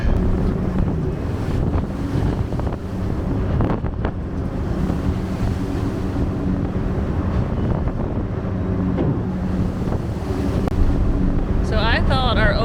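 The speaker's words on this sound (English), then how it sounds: "we are getting salt spray on the windows from the waves crashing" A ferry at sea pitches through rough water, with a steady rumble of engine and wind buffeting the microphone while waves crash against the hull in dull, irregular thuds; a few brief sharper sounds near the end.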